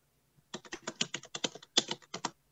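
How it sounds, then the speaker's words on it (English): Fingers typing on a computer keyboard in a quick, close burst of about a dozen crisp key clicks, irregularly spaced, against near silence. "I am typing in tags"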